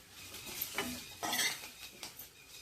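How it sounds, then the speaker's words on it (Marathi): A spoon scrapes and clinks against a pot while stirring a masala vegetable mixture frying in oil for a green tomato dish, a few separate close stirs over a faint sizzle. "आता आपण हे सगळं परतून घेऊया"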